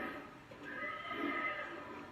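A horse gives a drawn-out whinny from a distance, faint and wavering, over low background noise.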